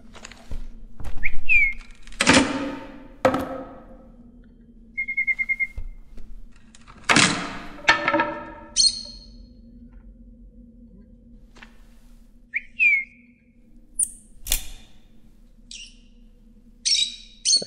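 A bird in the video game Virginia calls with short, clear whistled notes, some repeated in quick pairs, spaced between soft rustling movement and louder sweeping whooshes against a low ambient hum.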